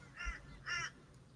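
A crow in Australia gives two loud, harsh caws about half a second apart, close by, with no talking.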